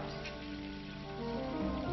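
Steady, faint patter of rain on a surface, a soft continuous wash with no voices.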